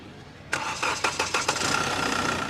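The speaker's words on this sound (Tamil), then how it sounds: "இப்போ இன்ஜினை ஸ்டார்ட் பண்ணி இன்ஜினோட நைஸை லைவாக கேட்கலாம்" A used automatic car's engine cranks and catches, with a few rhythmic starter pulses followed by a steady idle, heard close and alone.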